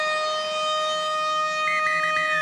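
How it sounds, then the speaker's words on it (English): Steady siren sounding half-time at a Dragons versus Knights under-20s rugby league match in 2016, a sustained loud tone over stadium ambience, rising slightly in pitch near the end. "There is the siren. That is half-time."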